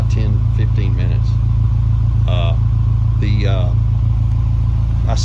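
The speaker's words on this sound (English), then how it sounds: "It's been sitting here idling for about 10-15 minutes." A Ford Mustang EcoBoost with a Precision Turbo sits idling, giving a steady low rumble throughout while a person talks over it in short bursts.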